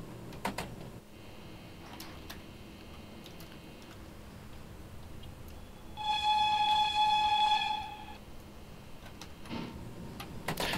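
Class 110 electric locomotive in Train Sim World 3 setting off after the brake is released, with a steady low running rumble, a few faint clicks and a loud sustained whistle tone for about two seconds.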